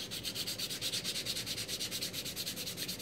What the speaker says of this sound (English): you're just going to go ahead and sand it again